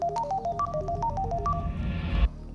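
A mobile phone ringtone plays a quick, bright melodic pattern of short electronic tones, clear and close, ending abruptly with a soft thump after about two seconds.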